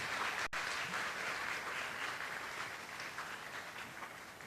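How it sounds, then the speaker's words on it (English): An audience claps in sustained applause that stays steady for several seconds before easing slightly toward the end. "I think she needs a round of applause just for that."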